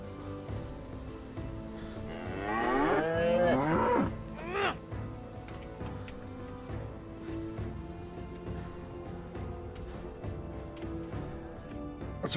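A single long moo from a cow in a DayZ medieval mod, with a wavering pitch, followed by a quiet ambient background with light clicks.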